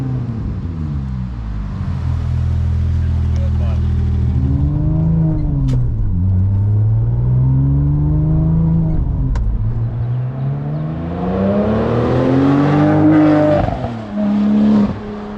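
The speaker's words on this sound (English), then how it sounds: "I can still hear the exhaust" A straight-piped Porsche 911 Turbo exhaust drones steadily from inside the cabin, pitch swelling and dipping as the engine revs rise and fall.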